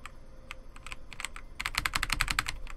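Computer keyboard keys tapped in a game of Life is Strange, starting as scattered separate presses, then turning into a quicker, denser burst of clicks; close and clear, with no talking.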